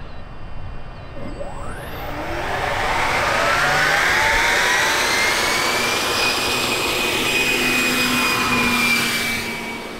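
Jet engines of a large RC model Bombardier Global 7500 on its maiden flight roar loudly and steadily, a rising whine sweeping in pitch as the plane passes close and holds a continuous high-pitched turbine scream.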